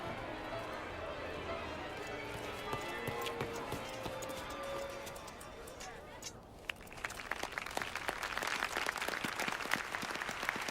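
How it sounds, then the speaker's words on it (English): Crowd applause in a Final Fantasy IX cutscene at a castle, a dense wash of clapping that swells in the second half, with hoof-like clatter and game sounds mixed in. "Clapping."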